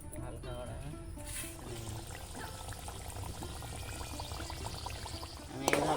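Spinach kachori, a green Bengali village-style luchi, fries in moderately hot oil with a steady bubbling sizzle, while a person talks over it.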